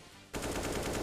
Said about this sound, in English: you're not even on my screen and you're shooting already